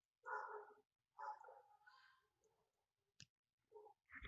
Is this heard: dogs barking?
yes